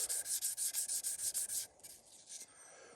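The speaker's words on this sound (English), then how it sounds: "We're going to take some 600 grit sandpaper and basically sand" Fine 600 grit sandpaper rubbed over a rusty, pitted steel spanner in steady rapid back-and-forth strokes, close and bright, then slowing into a few lighter, softer rubs near the end.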